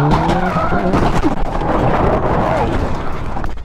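A speeding sports car crashes into an SUV on a road, heard as a loud, continuous roar of engine and screeching, scraping tires close by, fading slightly at the end.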